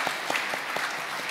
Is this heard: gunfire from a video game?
no